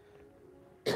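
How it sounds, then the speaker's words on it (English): A person coughing sharply once at close range, a single loud burst at the very end after near-silence, during a live stream from a fire near Lake Balboa in Van Nuys, California. "I'm at the fun stage of coughing and coughing things up"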